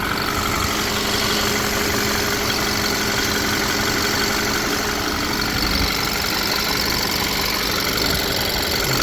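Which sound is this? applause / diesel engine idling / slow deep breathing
diesel engine idling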